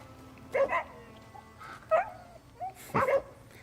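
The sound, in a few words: dog barking in Crimson Desert video game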